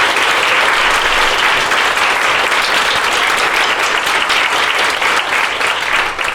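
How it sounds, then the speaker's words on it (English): A dense, steady burst of audience applause at an anniversary celebration panel evening, many hands clapping together at full volume without letting up, with no speech over it. "Can you give us a round of applause?"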